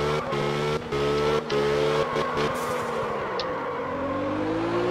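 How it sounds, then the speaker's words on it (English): A car drifts in the video game Absolute Drift, its engine droning steadily with brief dips between revs and a loud, continuous tone throughout. "Drift between the lamp and the hangar."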